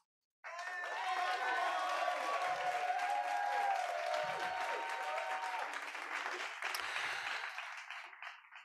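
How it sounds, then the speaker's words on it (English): An award ceremony audience bursts into sustained applause, a dense wash of clapping from a large crowd with a faint cheer, swelling quickly and then slowly fading. "Congratulations and a round of applause, please, for"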